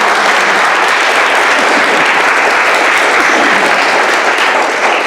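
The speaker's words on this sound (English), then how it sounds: "this round of applause from all of us here on this stage is for all of you" Sustained, loud applause from an audience at a book event, with thanks coming from the people on stage: a dense, even wash of many hands clapping that holds steady throughout with almost no talk.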